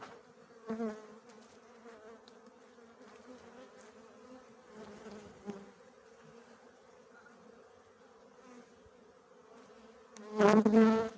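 Honeybees hum at an open hive during a frame inspection, a soft continuous drone with a few individual bees swelling near and louder, one very close buzz at the end, and no talk.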